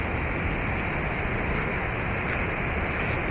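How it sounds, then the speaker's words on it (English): Waterfall on a forest stream, a loud and constant broadband rush of falling water with no breaks and no voices. "But here we have the falls in the background."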